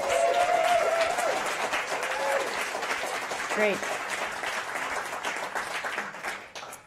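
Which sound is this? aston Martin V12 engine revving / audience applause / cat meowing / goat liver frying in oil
audience applause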